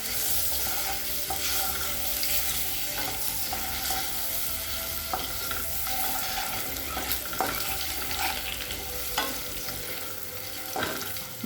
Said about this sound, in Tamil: முட்டையை நல்லா வறுத்துக்கலாம்.